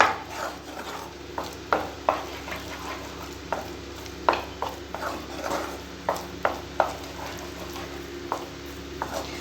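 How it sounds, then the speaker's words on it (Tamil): Milk Bikis biscuit halwa being stirred in a pan over a low flame, with a steady series of soft scraping strokes and light taps at an irregular rhythm, fairly close and moderately quiet, no talking. "லோ ஃப்ளேமில் வச்சுட்டே நீங்கள் நல்லா கலக்கிக்கோங்க"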